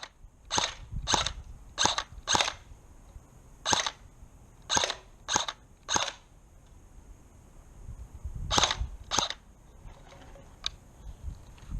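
An ICS airsoft M1 Garand rifle fires a series of sharp, snappy single shots at irregular intervals, about a dozen in all, loud and close with quiet pauses between them.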